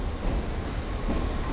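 A local train runs along its rails in hilly Japanese country near Karuizawa, giving a steady, moderately quiet rumbling roar without distinct clicks.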